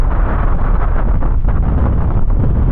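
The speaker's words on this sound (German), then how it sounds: "heftigen, kräftigen Wind." Strong, gusty coastal wind on Gran Canaria at Maspalomas, a loud continuous roar buffeting the microphone throughout with no let-up.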